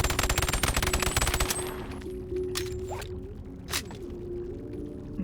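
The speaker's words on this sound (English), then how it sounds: "the next submachine gun we have is the MP-11, which is a really small, really fast-firing submachine gun" MP-11 submachine gun in Bonelab, a very fast-firing compact weapon, letting off a rapid rattling burst for about a second and a half, then a couple of single ringing shots and echoing tails.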